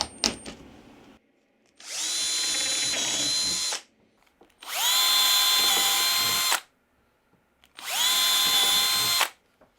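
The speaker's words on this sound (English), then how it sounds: "I'm going to pre-drill with a countersinking bit first" A power drill fitted with a countersinking bit pre-drills wood in three loud, sustained bursts of whirring, separated by short pauses.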